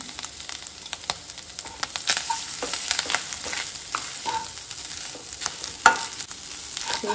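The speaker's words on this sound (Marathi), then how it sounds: "सोय आमी न्ही हितून मातशी 1 ते 2 मिनटां खातीर परतून घेवया।" Semolina roasting in melted ghee over a low gas flame, with a steady close sizzle and scraping stirring strokes in the pan, continuous and without voices.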